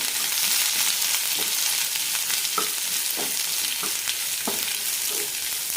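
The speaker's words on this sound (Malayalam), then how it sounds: "കൂടെ തന്നെ ഇഞ്ചി പച്ചമുളക് കൂടി ഇടാം നന്നായി വഴറ്റാം" Onion sautés with ginger and green chilli in a pan for a Bombay chutney curry, producing a steady close sizzle broken by a rhythmic series of spatula scrapes and stirring knocks.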